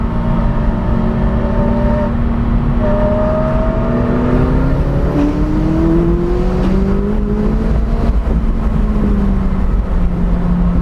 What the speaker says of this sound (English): the car automatically is going to keep a very High RPM